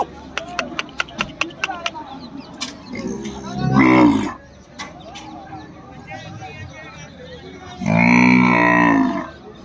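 An Ongole cattle calf moos twice, loud and close, each call a long drawn-out bellow, with a run of sharp clicks and low background murmur before the first call.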